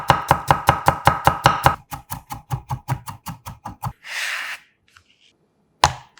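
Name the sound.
coarsely chopping whole garlic cloves with a knife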